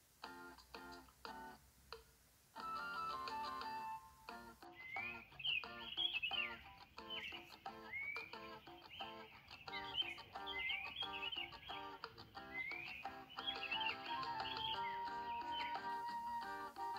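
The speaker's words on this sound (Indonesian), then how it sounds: "dengar kicauan burungnya enggak?" Birds chirp in quick repeated bursts at sunrise in the Silancur highland near Magelang, faint and distant against a rhythmic ticking background.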